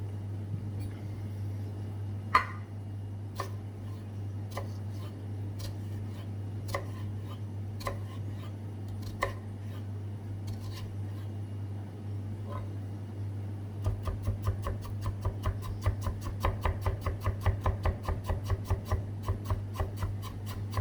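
A knife cuts potato slices for a fries omelette on a board, giving sparse soft taps at first and then a quick, steady run of close, crisp chops, all under a constant low electrical hum.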